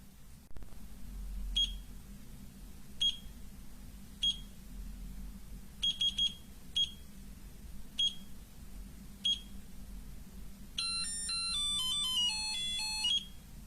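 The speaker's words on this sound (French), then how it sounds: "vous avez combien de sonneries? 8 choix de sonneries" An Aigostar 10KZP 7W LED desk lamp plays its alarm ringtones: short bright beeps repeat every second or so, some in quick doublets, then a rapid stepping electronic melody at the end, over a low steady hum.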